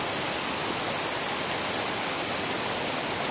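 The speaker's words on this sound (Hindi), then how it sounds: "फॉल यहाँ का ये पूरा हिडन वाटरफॉल है" Steady broadband rush of a hidden waterfall at Bagar near Pangoot, Nainital, a dense continuous roar filling the whole clip without pause, no voices heard.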